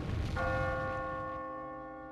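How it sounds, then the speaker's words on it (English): A single bell in the video game Catherine strikes once, loud and resonant like a church bell, then its ringing tone decays slowly over a couple of seconds. "The bell only bothers me at night when I'm trying to keep it down."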